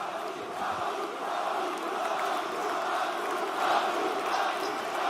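A sold-out arena crowd in Paris at a PFL fight, a steady dense roar of many voices with rising shouts, heard from within the hall with no commentary.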